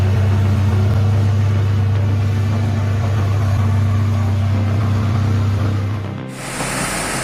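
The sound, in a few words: heavy wood truck engine pulling load through mud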